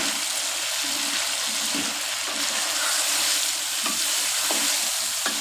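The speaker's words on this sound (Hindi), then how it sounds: "अब मैं इसमें डालने लगी हूँ प्याज, जो मैंने पेस्ट बना के रखा था।" Coarse onion paste fries in oil in a pot for chicken shahi korma, giving a dense, continuous, close sizzle with soft stirring scrapes and no voice.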